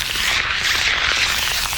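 Synthesized crackly fire texture built from white noise sampled in Phase Plant with distortion, flanger and filter modulation, a dense bright hissing wash with a sweeping, slightly fluttering coloration, steady and loud.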